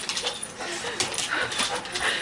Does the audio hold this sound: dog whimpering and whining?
yes